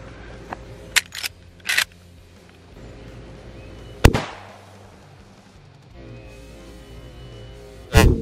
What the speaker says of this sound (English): All right, first shot with the core locked, 30-30,